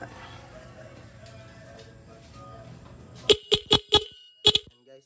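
A car horn wired through a Shinigawa interrupter relay gives a burst of five short, sharp honks in quick stutter bursts, close and loud, following a quiet stretch of low background noise and faint voices.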